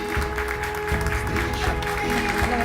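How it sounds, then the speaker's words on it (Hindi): An audience applauds to welcome a guest onto a talk-show stage, dense continuous clapping, moderately loud and close, with a faint musical tone running underneath. "तालियों के साथ स्वागत कीजिए"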